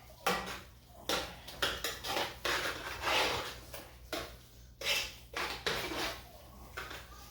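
Cornbread dressing mixed by hand in a pan, repeated soft squelching and scraping strokes in an uneven rhythm, close up and fairly quiet.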